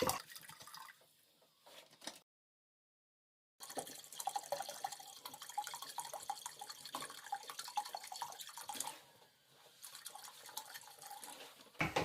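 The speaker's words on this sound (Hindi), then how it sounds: "3 लीटर के करीब हम पानी इसमें ऐड करेंगे" About three litres of water pour into a pot for chicken soup, a splashing, gurgling fill that runs in bursts with a brief silent gap, close and moderately loud.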